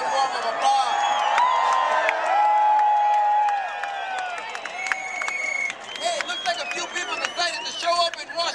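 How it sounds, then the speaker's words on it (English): Outdoor rally crowd in the open air clapping and cheering, loud sustained applause with whoops and shouts that thins into scattered claps and voices. "Let's give her a round of applause."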